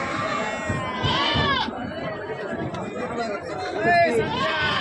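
Goats bleating at a busy Sunday goat market in Bigwan, with several wavering calls standing out over constant crowd chatter and someone talking nearby, including one loud bleat toward the end.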